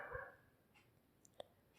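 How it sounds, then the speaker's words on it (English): Dogs barking outside late at night, distant and faint, with one short bark at the start and a couple of quieter yips near the end. "Dogs are barking a lot."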